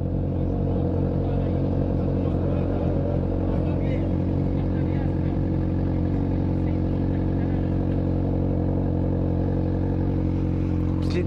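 A motorcycle engine idles steadily during a roadside police stop, a low, constant rumble running throughout while people talk over it.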